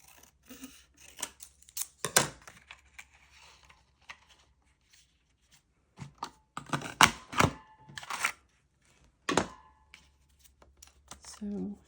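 Scissors snip paper from a 6x6 paper pad into small tags, producing short crisp cutting bursts in irregular clusters with quiet gaps between them; a voice talks at a low level.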